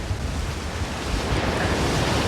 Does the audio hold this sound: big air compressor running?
no